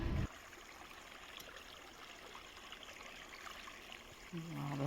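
Water released into a farm irrigation channel in rural Konkan flows with a faint, steady trickling rush, with short louder sounds at the start and near the end.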